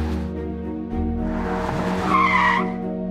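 An animated car speeds off after a taxi, tires squealing in a long skid over a steady engine hum, loud and close with a rising screech near the end.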